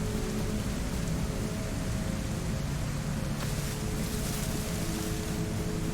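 Rain falls steadily on Deer Isle in the DayZ video game, a constant dense hiss of drops with no breaks, heard alone at an even, moderate level.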